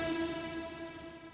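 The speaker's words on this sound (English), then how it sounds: "And this is just a very nice reverb plugin that can create these long tails" A sound processed through the Raum reverb plugin rings out in a wide, washed sustain, its long tail smeared and fading slowly, heard alone and fairly quiet.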